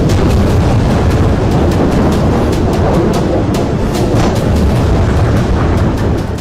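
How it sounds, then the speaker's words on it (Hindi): Dense, continuous roar of missile and rocket explosions in Israel, loud throughout with repeated sharp cracks over a constant rumbling wash. "इस बीच हमास ने 130 मिसाइलें और अनगिनत रॉकेट दागे।"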